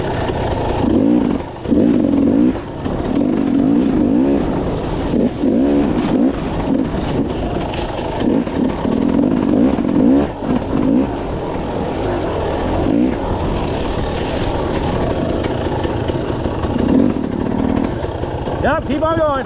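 Four-stroke dirt bikes on a single-track trail ride close by, their engines droning and revving unevenly throughout with rising and falling pitch, while voices talk over the noise.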